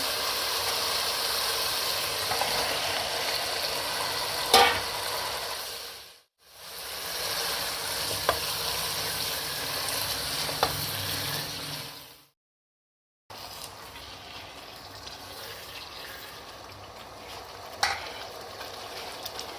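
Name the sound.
chicken and water sizzling in karahi pan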